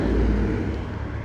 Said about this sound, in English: Holy loud cars.